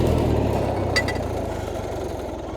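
An old tractor engine idles steadily close by, a low continuous rumble with a brief higher knock near the middle, no voices over it.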